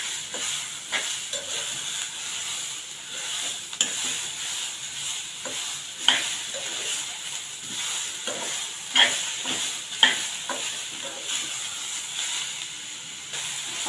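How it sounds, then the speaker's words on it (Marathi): Chopped tomatoes sautéing in a pan for a Konkani black chana masala make a soft, steady sizzle, broken by repeated scraping and stirring clatters from a spoon against the pan. "आता टोमॅटो आपल्याला हलके नरम होईपर्यंत परतून घ्यायचे"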